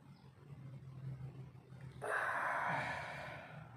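Deep breath drawn in during a traditional Malay breathing exercise; a soft low murmur gives way to a sudden, strong airy inhale that lasts about a second and a half, close and alone without talk.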